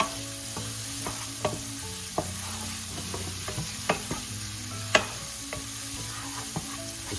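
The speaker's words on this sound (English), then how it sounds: "We're pretty much stir frying everything here." Continuous sizzle of vegetables stir-frying in a pan for Filipino chop suey, with scattered scraping and clinking clicks from stirring, steady and close.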